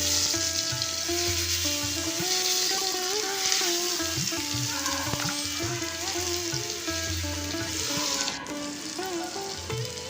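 Tomatoes with turmeric, chili powder and salt sizzle steadily in a pan for a Bengali Pabda fish recipe, with continuous close frying noise beneath a melodic background tune.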